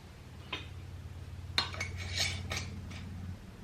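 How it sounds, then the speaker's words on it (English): Metal rings screwed by hand onto glass canning jars of rhubarb mint syrup, giving a few light metallic clinks and scrapes, close and fairly quiet, with no talking. "we're just adding the rings and tightening to fingertip tight"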